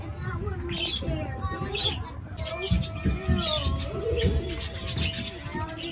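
A large flock of pigeons or doves coos repeatedly at a family farm, the soft overlapping calls close by while people talk and children's voices chatter throughout.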